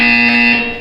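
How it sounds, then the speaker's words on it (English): A loud, steady electronic buzzer tone from the video game Portal 2 sounds alone for under a second. It holds a single sustained pitch and fades slightly at the end. "When you hear the buzzer, look down at the floor."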